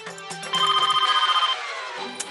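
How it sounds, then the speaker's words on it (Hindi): A telephone rings in a short burst of rapid trilling bell pulses, loud and close indoors, then stops. "ये फोन भी ना, जब देखो बस टर टर टर टर करता रहता है।"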